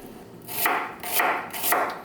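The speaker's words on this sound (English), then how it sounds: "Let's get chopping. Let's get slicing." A knife strikes a cutting board in three evenly spaced chops, close and crisp, each with a short slicing scrape.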